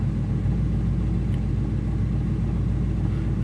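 A car engine fitted with a Holley Sniper EFI idles during tuning, giving a steady, close, low rumble that holds even and continuous throughout with no voices over it.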